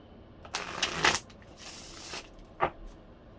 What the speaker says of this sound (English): they told me to do one more big shuffle.